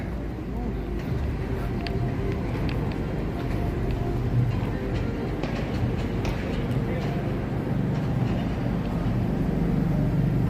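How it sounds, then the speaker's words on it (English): A San Francisco cable car rolls along its rails with a steady rumbling, rattling drone and occasional clicks, loud and continuous throughout, with street noise around it. "Famous cable cars here."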